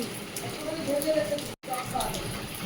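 Dense, steady patter of heavy rain with a brief dropout midway; faint voices murmur underneath.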